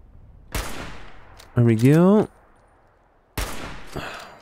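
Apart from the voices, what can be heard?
gunshots in the video game Fallout 4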